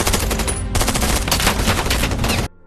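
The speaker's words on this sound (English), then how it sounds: "They eventually pinpoint Ruby's location and begin peppering the spot with bullets." Dense, rapid automatic gunfire peppers a hiding spot in a film scene, a loud continuous barrage of overlapping shots with a brief break before it resumes, then cuts off abruptly into near silence.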